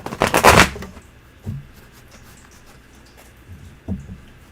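A quick riffle of shuffled tarot cards at the start, loud and close, followed by a few soft taps and quiet handling.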